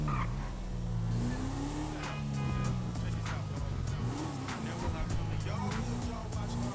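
A car in Grand Theft Auto V drives through a city district, its engine revving and shifting pitch with acceleration and brief tire squeals, alongside sharp clicky game sounds and low background talk.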